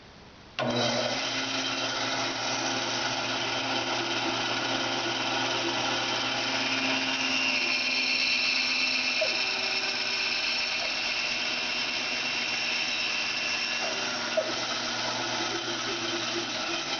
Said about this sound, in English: And then we'll mark an X and we'll drill it in there.